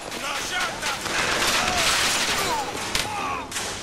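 Gunfire in the BioShock Infinite shooter game, a busy stretch of repeated shots and bursts with a sharp crack near the end, mixed with other game noise.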